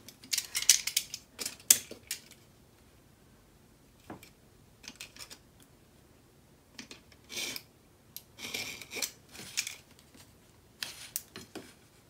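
Book binding tape gets its wonky edges trimmed with scissors: short, faint snips and rustles in irregular bursts, separated by quiet pauses.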